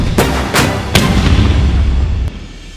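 A Canadian Armed Forces artillery gun fires at a range, three booming blasts in quick succession followed by a sustained low rumble and a final sharp crack, loud and close.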